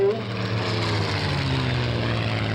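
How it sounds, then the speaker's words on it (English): Supermarine Spitfire Mk IX piston-engined fighter flying past at an airshow, a steady loud propeller-engine drone that holds throughout, with faint talk mixed in. "The Spitfire 9, of course, which is the one I think John Romain is for"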